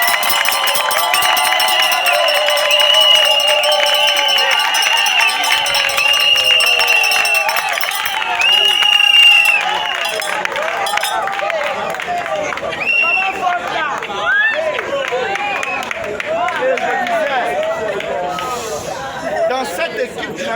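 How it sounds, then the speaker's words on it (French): A large crowd at a political rally in Cocody cheers and claps, a loud, sustained wash of voices and applause that swells early and then gradually settles into chatter. "On va acclamer Mme Smoro."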